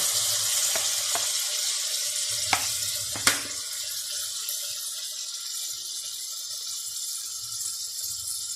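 Chicken vegetable spaghetti with vinegar, chili sauce and soy sauce stir-frying in a pan, giving a close, steady hiss of sizzling oil broken by a few sharp utensil taps.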